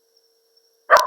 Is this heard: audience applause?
no